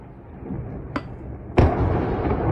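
Incoming strikes explode near Avdiivka, Ukraine: two sharp distant blasts about half a second apart, the second heavier and trailing off into a rumbling wash over steady low background noise.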